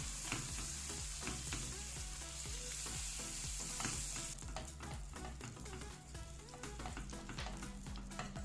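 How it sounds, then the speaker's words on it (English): Butter stirred into melted sugar for caramel popcorn, a bubbling sizzle with repeated rhythmic stirring scrapes and taps, close and steady throughout. "I'll add a half a stick of butter and stir that in."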